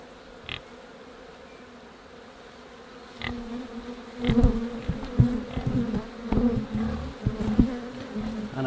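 Honey bees buzz around an open hive frame, a faint hum that swells louder after a few seconds, with close, uneven buzzing passes and soft handling knocks.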